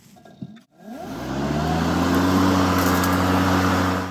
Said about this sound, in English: this mower is noisy all the way around